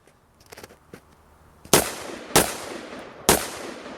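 Three sharp AR-15 rifle shots ring out at a shooting range after some faint handling clicks, evenly spaced loud cracks with short decaying echoes, close and with no talk.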